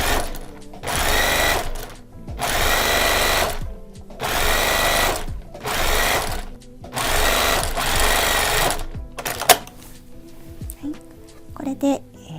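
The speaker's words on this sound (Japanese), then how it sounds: "次は反対側の端から1センチのところに縫っていきます。" Sewing machine stitching a fabric neck warmer, running in five loud sustained bursts of rapid stitching separated by short pauses, then stopping with a few faint handling clicks at the end.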